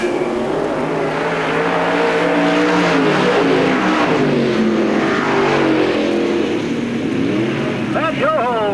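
Late model stock cars racing at a raceway, with loud roaring engines rising and falling as they pass close by, and an announcer talking over the noise.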